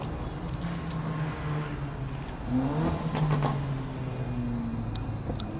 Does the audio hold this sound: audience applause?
no